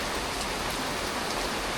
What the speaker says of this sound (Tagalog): Naabutan kami ng malakas na ulan.